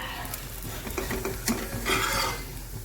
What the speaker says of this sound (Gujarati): પલટ પલટ કરીને આપણે એને મસ્ત શેકી લઈશું.